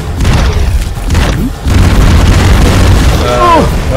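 Bomb exploding in an arcade-style shooter video game: a loud, booming blast with crackling bursts and a sweeping descending tone near the end, over players' excited voices.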